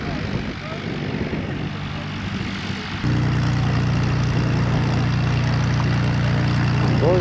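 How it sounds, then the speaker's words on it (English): A propeller chase plane's engine starts up at Cotswold Airport, cutting in abruptly partway through and then holding a loud, steady drone close by after quieter airfield background. "That's the chase plane that's just started up."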